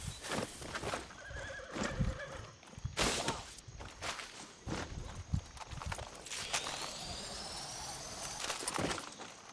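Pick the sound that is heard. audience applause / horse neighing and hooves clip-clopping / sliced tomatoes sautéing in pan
horse neighing and hooves clip-clopping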